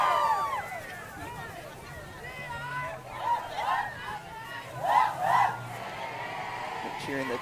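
A crowd at a 2021 homecoming parade cheers and chants in rising swells, several loud bursts of shouting over a busy babble of many voices.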